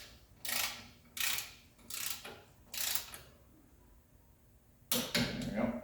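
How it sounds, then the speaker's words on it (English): A ratchet tightens clutch pressure plate bolts on a Porsche 911, heard as five separate bursts of rapid clicking with short pauses between them, close and fairly quiet. "I'm gonna have to do a couple rounds because you're basically tightening the spring onto the clutch"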